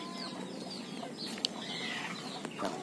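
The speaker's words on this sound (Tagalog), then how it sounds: "Yan ating mga manok ko." Backyard chickens on a small Filipino vegetable plot cluck softly and intermittently against steady outdoor background noise, with a brief flutter partway through.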